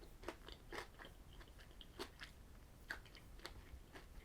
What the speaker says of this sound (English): There's lots of crunch there.